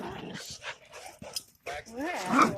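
Dogs at a dog park play with a young puppy, giving short yips, whines and a rising whimper in close bursts, while people talk over the scuffle.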